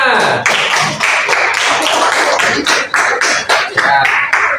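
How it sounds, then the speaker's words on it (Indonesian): Classroom students clap their hands together at close range, a dense, steady patter of many hands running the whole time with a few brief dips, some voices mixed in. "tepuk tangan semuanya."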